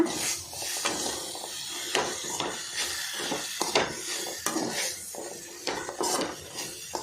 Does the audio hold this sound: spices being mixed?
yes